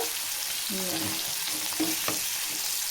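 Fish sizzles steadily in a frying pan as whitefish fries in hot oil, with soft stirring scrapes and light crackles close by, no voices.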